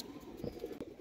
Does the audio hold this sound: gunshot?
no